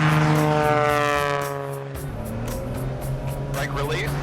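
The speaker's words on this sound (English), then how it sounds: "Hold the brakes, adding full power. Brake release." A small tailwheel airplane's engine runs at full power through the takeoff roll, a loud steady drone with rising harmonic tones that settles into a constant roar, with a voice speaking over it.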